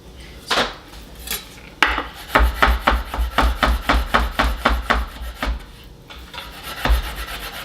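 A knife minces garlic on a wooden board in quick rhythmic chops, a steady run of close, crisp taps after a few scattered scrapes.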